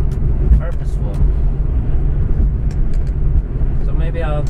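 Porsche 964 Carrera 2 Targa with a manual gearbox, its engine a constant low rumble while cruising, loud and steady beneath someone talking over it.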